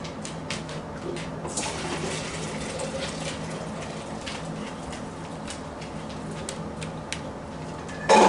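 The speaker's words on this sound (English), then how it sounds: "We're going to fill to just below" Water pours steadily into a crockpot for bone broth, a continuous broadband rush with faint clinks, then a brief louder knock near the end, no talking.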